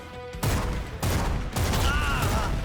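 Heavy gunfire in the video game Bloodshed, loud sustained bursts of rapid shots in three blocks separated by brief gaps, with an electronic tone underneath.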